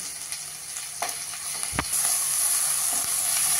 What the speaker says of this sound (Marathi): हा मसाला घालायचा आहे आणि तो चांगला परतायचा आहे।